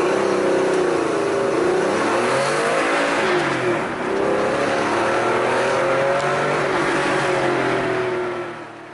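A Porsche 964 Carrera RS engine revs hard on the road, loud and close, its pitch climbing and dropping through gear changes in a continuous, strained mechanical roar that eases off at the end.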